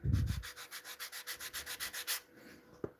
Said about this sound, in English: So I'm going to just lightly sand it